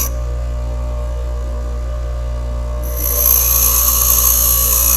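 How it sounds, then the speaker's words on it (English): A bench grinder hums steadily, then partway through a diamond dresser bites into the spinning wheel and adds a loud, gritty hiss. "So they're a great investment, the diamond dresser."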